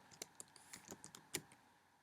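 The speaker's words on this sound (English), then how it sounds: "I always have a hard time seeing these, so forgive me and how slowly I type." Slow, uneven typing on a computer keyboard, with separate key clicks spaced irregularly across a couple of seconds, close and fairly quiet, no talking.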